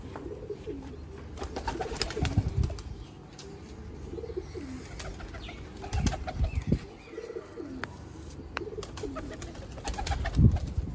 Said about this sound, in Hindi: शेखां वाले कबूतर।